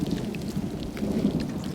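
Steady rain with low rumbling thunder as desert rains arrive, a dense continuous wash of drops and deep rolling booms filling the scene without any voices.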